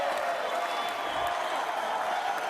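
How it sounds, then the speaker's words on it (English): An audience at a comedy show applauds its host, steady clapping from a crowd heard at a moderate distance throughout. "Let's give it another round of applause for our host,"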